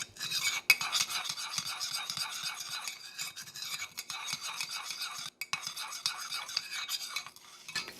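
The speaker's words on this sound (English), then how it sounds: "you're going to stir very well and get your sugars combined" A spoon stirs butter with white and brown sugar and sweetener in a cup, scraping and clinking in quick, rhythmic strokes against the sides, close and fairly quiet, with a few sharper taps.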